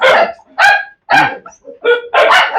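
Several high-pitched puppy barks and yips, loud and close, in short bursts with brief pauses between them.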